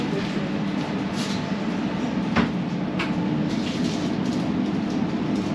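Aboard a moving SJ high-speed train bound for Stockholm, a steady low rumble fills the carriage, with a few sharp clicks and rattles passing over the continuous drone, no voices.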